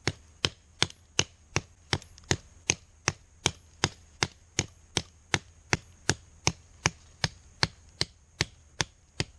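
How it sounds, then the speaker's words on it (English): An Esee JG5 knife chops into a small tree with about twenty sharp, evenly spaced strikes in a steady rhythm, each a crisp close impact, with no talking. "Let's chop down a little tree here."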